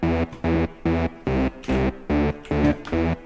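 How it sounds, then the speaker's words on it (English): Distorted synth bass line from a dark electro track, playing eight even, sustained notes in a steady pulsing rhythm with short gaps between them, loud and upfront with no drums or voices. "This is the sound of the bass"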